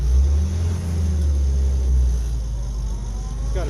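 An old Jeep engine with a carburetor dead spot, run on choke, rumbles steadily up close with a low, uneven drone that swells slightly as throttle is applied.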